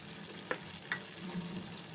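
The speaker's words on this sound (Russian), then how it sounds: "Жарим, жарим." Fish milt sizzles and fries in a pan, a steady close crackle with a couple of sharp pops and light stirring.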